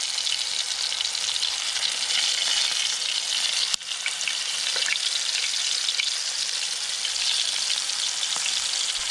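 Shrimp fillets sizzle steadily in a hot pan on a small stove beside a river, a dense continuous frying hiss with a single sharp clink partway through and no talking.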